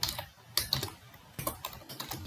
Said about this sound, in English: Then I will type these characters